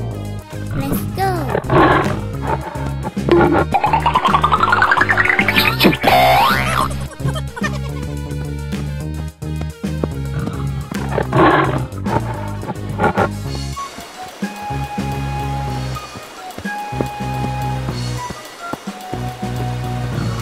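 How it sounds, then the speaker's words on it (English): A cartoon lion roars loudly among bouncy game sound effects and music in an animated wild animal crossing scene, with bursts repeating over a long stretch. "Lion."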